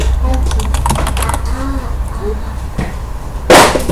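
Keys on a computer keyboard are tapped in quick irregular bursts at close range, followed by a single louder click at the end, with faint voice in the background.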